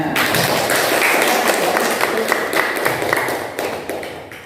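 Classroom applause after a student group finishes presenting its discussion results, a steady patter of many hands clapping at close range, fairly loud and continuous, with faint taps and thuds mixed in.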